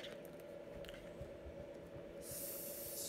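A face mist spray bottle from a makeup bag is pumped in a steady hiss, nearby and fairly quiet, with a brighter burst of spray near the end.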